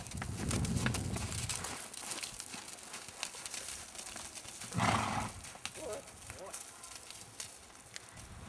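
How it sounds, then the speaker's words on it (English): A horse gives a short, breathy snort midway through, amid rustling and faint hoof shuffles in a stable. "The horse gives out a snort."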